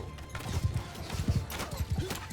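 Horse archers' hooves clopping in Mount & Blade II Bannerlord, a steady run of soft, near hoofbeats under faint battlefield din.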